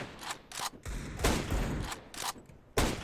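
Several sharp Scout sniper rifle shots ring out in a Counter-Strike match, spaced irregularly over a few seconds, loud and close with brief bursts of reverberant tail.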